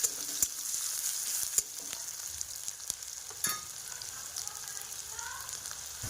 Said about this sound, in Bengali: পেঁয়াজ কুচিটাকেও আমি একটু হালকা ফ্রাই করে নেব।